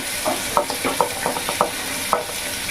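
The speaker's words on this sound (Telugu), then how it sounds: "ఈ ఉల్లిపాయని బాగా ఎర్రగా వేయించుకోవాలి మనం" Onions, green chillies and curry leaves fry in a pan for mutton curry, with a soft steady sizzle and repeated sharp clinks of a spoon stirring against the pan, close and fairly loud.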